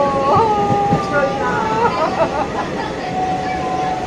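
A train travels through forest, its steady wheel rumble and rattle filling the ride, with squealing high tones that rise and fall near the start while people chatter over it.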